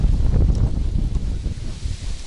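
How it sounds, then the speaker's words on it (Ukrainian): Gusty wind at a fishing spot buffets the microphone with low rumbling noise, rising and falling in strength throughout. "А тут вітер піднявся."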